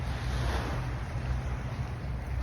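Seawater moves at the shoreline of East Coast Park, Singapore, a steady rushing wash with low wind rumble against the microphone, continuous and fairly close with no talking.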